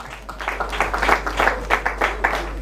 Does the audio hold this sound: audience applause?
yes